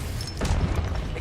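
A Confringo blasting spell bursting in a Harry Potter video game, one short booming explosion with a rumbling low tail amid game noise.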